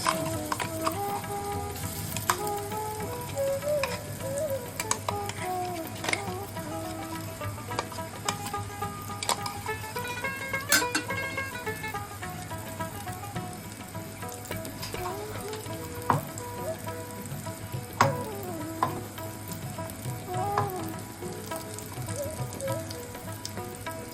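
Ground urad dal paste with ginger and green chili frying in a pan, a steady close sizzle with stirring scrapes and occasional clinks running throughout, no voices.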